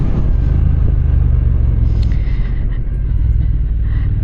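A 2025 Triumph Speed Twin 1200 motorcycle engine rumbles steadily at speed, a loud continuous low drone mixed with wind roar, no voices over it.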